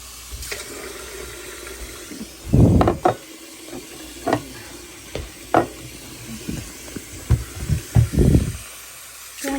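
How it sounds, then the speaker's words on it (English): Cold water is poured into a cooking pot in a kitchen while preparing a pork chop dinner, heard as a few short splashing bursts between quieter handling noises. "We're just going to put the water in now."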